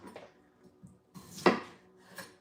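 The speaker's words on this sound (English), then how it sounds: "And the smaller you cut your potatoes," A knife chopping Yukon Gold potatoes on a board, a few soft scattered taps followed by one louder, sharper cut and a final light knock, close and with no talking.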